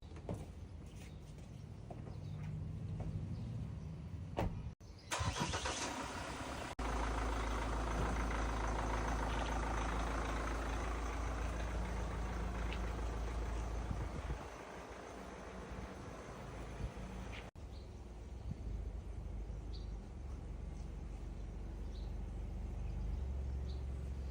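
Mahindra Thar engine starting with a brief burst, then settling into a steady low idle that runs on, fairly quiet and heard alone.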